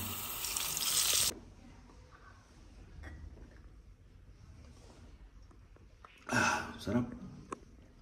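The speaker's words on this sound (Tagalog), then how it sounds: "So try natin mag-refill ng tubig dito" Water runs from a tap into a container at a mountain-top stop, two short bursts of gushing flow separated by a quieter pause with a voice talking in between.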